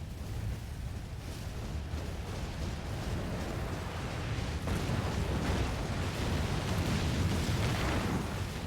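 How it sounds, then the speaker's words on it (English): Rumbling explosions in Final Fantasy XIV, a loud continuous roaring blast that swells and churns for several seconds with dense low-end booms. "And explosions. Don't forget explosions."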